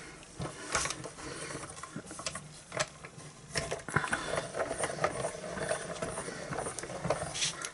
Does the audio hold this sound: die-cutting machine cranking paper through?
yes